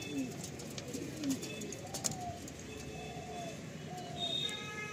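Madrasi pigeons cooing in a loft or pen, with soft repeated low coos and a few faint chirps amid light background bustle.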